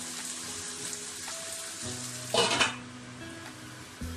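Spicy bulgogi pork simmers in a pan with oil, a soft constant sizzle and crackle with a brief louder hiss and bubbling burst midway, close and alone.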